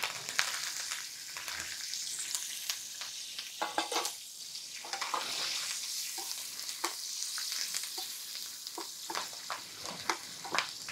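Green chillies and curry leaves crackle and sizzle sharply in hot oil for a tempering, with a small pan and asafoetida already in; dense popping spits over a steady close fry, no voices.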